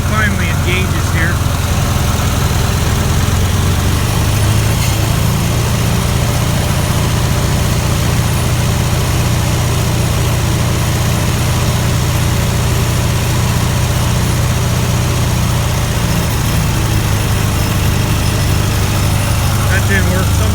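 A tractor engine runs in cold weather after warming up for about five to ten minutes, idling with a loud, steady low rumble and vibration throughout, close up, with a voice talking over it.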